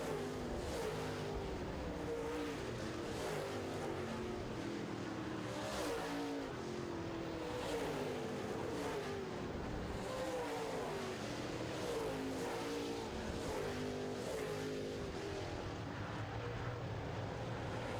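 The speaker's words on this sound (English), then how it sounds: "Dustin Strand now pursuing the 7 of Ricky Weiss." Late model race cars roar around an oval track during a feature race, with engines rising and falling in pitch as the field passes and keeps running continuously over the whole stretch, with no talking.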